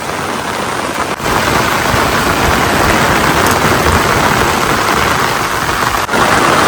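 Heavy nighttime rain pours down in a dense, loud, unbroken hiss, close by. No voices are heard over it.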